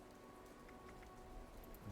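Steady rain in Fallout 76's Appalachia, a soft continuous hiss of drops on surfaces with a few faint pattering ticks, no voices, even and moderately quiet throughout.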